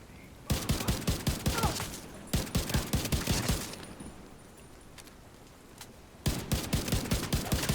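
Rapid bursts of player weapon fire in a shooter video game, three clusters of evenly spaced shots separated by short pauses, loud and close with a steady rhythm.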